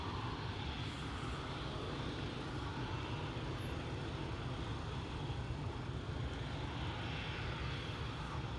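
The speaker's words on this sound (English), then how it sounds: "this is Vueling Flight 8364 to Malaga, lined up, A320" A Vueling Airbus A320 airliner sits lined up on the runway at Amsterdam Schiphol Airport, its jet engines giving a steady broadband roar that is fairly distant and continuous, with no talking.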